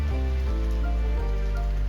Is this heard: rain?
yes